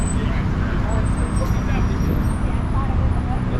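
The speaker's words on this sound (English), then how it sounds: "We still got some cars pulling up." Cars pulling up at a late night car meet: a dense, steady rumble of engines and traffic noise with a murmur of crowd voices mixed in throughout.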